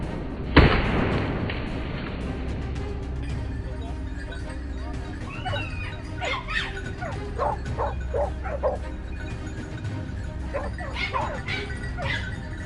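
Hunting dogs bark and yip from a distance in a forest during a wild boar hunt, their calls scattered and intermittent under steady outdoor noise, with a sharp thump near the start.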